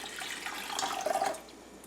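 Warm water is poured into a bowl holding yeast for Italian country bread dough, a soft trickling splash that swells briefly in the middle and then fades, fairly quiet and close.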